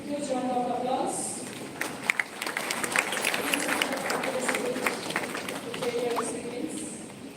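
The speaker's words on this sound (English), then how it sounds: "Give him a huge round of applause." A conference audience gives a sustained round of applause for a healthcare company founder and CEO, steady clapping with a few sharper claps and voices mixed in throughout.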